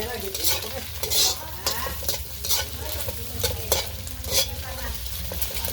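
Fried rice being stir-fried in a pan during home cooking in San Pablo, Philippines: a steady sizzle under repeated spatula scraping strokes, close and fairly loud, with no talk.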